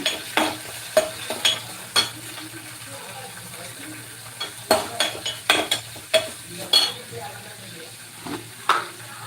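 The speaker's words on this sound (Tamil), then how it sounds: "ஆனியன் போட்டுக்கோங்க ஒரே ஒரு பச்சை மிளகா போட்டுக்கோங்க அது நல்லா வதக்கிடுங்க" Garlic, onion and green chili sautéing in a pan for potato kurma, with repeated close spoon stirs and scrapes over a soft frying sizzle, coming in irregular clusters.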